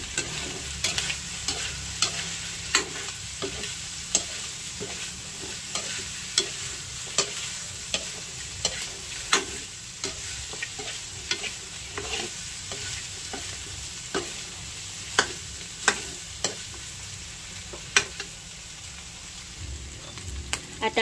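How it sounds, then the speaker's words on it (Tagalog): Garlic and onion being sautéed together in a pan, a continuous low sizzle broken by regular, sharp scraping clacks of a spatula against the pan, close and steady for about twenty seconds with no voices. "Lalagay ko na po itong ricado, bawang at sibuyas. Akin na pong pagsasabayin. Akin lang pong hahaluin"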